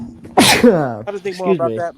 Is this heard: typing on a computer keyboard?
no